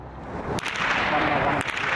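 Gunfire and explosions ring out in a war zone in Ukraine, with two sharp reports cracking over a dense, loud, roaring background of continuous noise.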